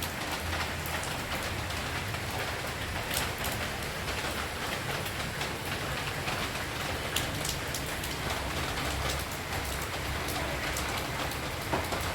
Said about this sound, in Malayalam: പുറത്ത് നല്ല മഴ കേട്ടോ ഗൈസ്